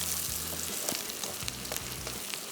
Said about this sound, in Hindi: ये प्याज को कर रहे हैं फ्राई